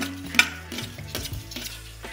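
Chopped tomatoes hit spiced oil in a pan for a mixed vegetable curry, giving a close crackling sizzle with clattering spoon strokes as they are stirred in.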